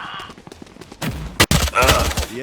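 Weapon fire in the video game Valorant, a rapid burst of shots with a sharp crack in the middle, loud and close over game ambience.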